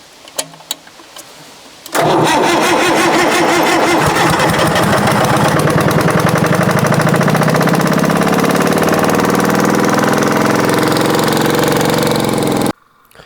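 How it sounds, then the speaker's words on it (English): A 1968 John Deere backhoe's engine turns over and catches, then runs steadily and loudly for about eleven seconds with hydraulic strain layered over the rumble before cutting off; a few faint knocks come before the start. "I'm not gonna move it, but I'll operate the hydraulics."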